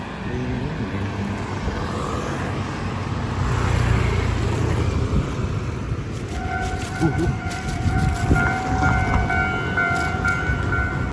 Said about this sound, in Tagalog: may dadaan daw na train